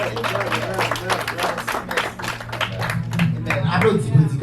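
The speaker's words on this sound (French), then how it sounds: "Applaudis prédicateur, applaudis" A church congregation claps for the preacher, a brisk run of many hands applauding under a voice, with a steady low hum beneath.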